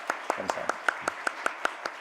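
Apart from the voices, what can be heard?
congregation applauding in church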